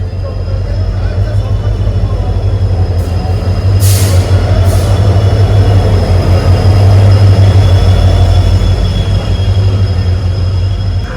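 The Goa Express, a diesel-hauled train on the Pune to Vasco route, arriving at Belagavi station: a loud, steady low rumble and wheel noise with brief hissing bursts, and a voice speaking over it.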